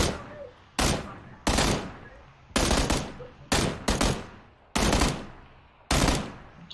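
Gunfire in the battle-royale game PUBG: eight loud, sharp shots with short echoing tails, fired singly and in close pairs at irregular intervals, with no talk between them.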